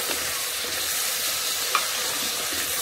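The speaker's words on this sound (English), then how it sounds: "saute that for about a minute or 2" Frozen green peas sautéing in an Instant Pot, a constant close sizzle with faint stirring scrapes and one small clink, no talk.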